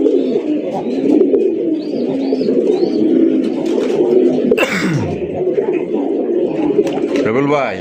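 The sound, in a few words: red pigeons cooing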